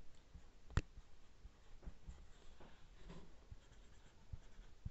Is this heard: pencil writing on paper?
yes